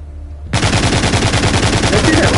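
Rapid, continuous Gatling gun fire in the zombie shooter The Walking Zombie 2 bursts in loudly after a brief quiet moment and keeps hammering without a break.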